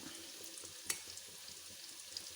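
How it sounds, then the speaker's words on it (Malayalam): Green chillies frying in hot oil for pavakka (bitter gourd) kichadi give a faint, steady sizzle with scattered small crackles and one sharper pop. "മുളകൊക്കെ മൂക്കട്ടെ പച്ചമുളക്"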